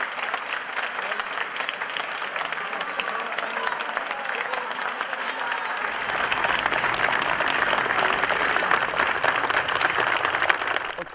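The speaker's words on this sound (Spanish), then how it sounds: "Con aplausos de funcionarios del Poder Judicial, se dirigió a su oficina de ministro." Court officials of the judiciary applaud a new president arriving at his office, a steady wash of clapping that swells louder partway through, with faint voices mixed in.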